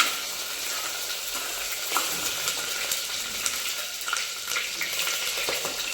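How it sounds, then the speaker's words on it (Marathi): Ginger and garlic frying in a pan for a vegetable pulao, a steady bright sizzle running throughout with a few sharp crackles and light stirring clicks, close and fairly quiet, no voices. "आलं आणि लसूण घालून घ्यायचं ते एक मिनटं व्यवस्थित फ्राय करून घ्यायचं"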